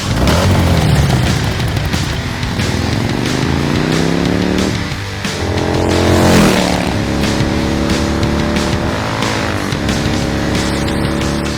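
An Arch motorcycle engine revs loudly and continuously, its pitch sweeping up and down through several throttle blips with a brief dip near the middle, recorded close with no talking.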